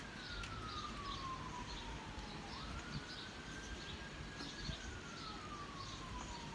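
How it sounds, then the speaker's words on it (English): Faint, distant police sirens slowly fall and rise in pitch beneath a steady wash of background noise. "the police sirens kind of sound like people cheering"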